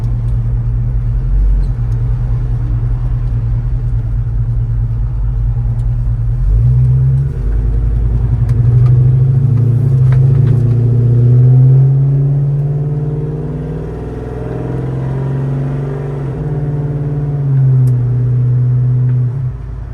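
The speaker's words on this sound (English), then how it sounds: "it still feels really good driving around in this Chevelle today" A 1968 Chevrolet Chevelle Malibu heard from inside while driving, its V8 rumbling low and steady, then swelling into a stronger revving drone as it accelerates and settles again.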